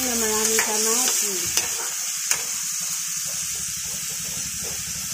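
Ground pork fries in a pan for pork giniling, a steady close sizzle with scraping stir strokes and a few sharp clinks, running alone without talk.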